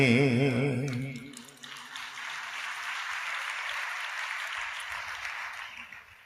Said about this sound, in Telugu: ఏమర్థమై చప్పట్లు కొట్టారు?